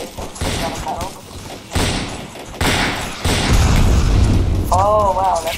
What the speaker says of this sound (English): Oh, wow, that's all the artillery